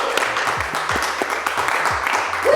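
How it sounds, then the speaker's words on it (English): A small garage crowd claps in a steady round of applause as a Honda Civic is unveiled, with a dense patter of hand claps mixed with chatter and a voice close by. "So guys, round of applause."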